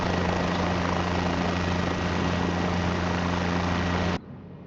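A Cabri G2 helicopter in the HeliSim game hovers low while taxiing, its loud steady rotor and engine drone with a constant tonal hum, cutting off abruptly near the end.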